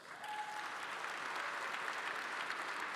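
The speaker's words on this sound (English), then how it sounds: "it deserves a round of applause." An awards-ceremony audience breaks into sustained applause, a broad, even wash of clapping from many hands in a large room, steady throughout with no speech over it.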